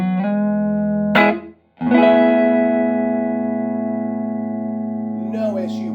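Thinline Telecaster played through a Sound Salvage Wrecker 35 recycled tube amp with a little reverb: sustained chords ring out clean and full, a brief break and restrum, then a long decaying tail with a few lighter notes near the end.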